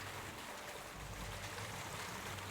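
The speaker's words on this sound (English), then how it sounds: "It's a water wheel." A steady, even rush of flowing water by a water wheel in the medieval world of Kingdom Come: Deliverance II, a faint, continuous wash with no breaks and no voices.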